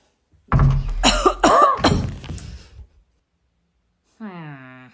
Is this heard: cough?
yes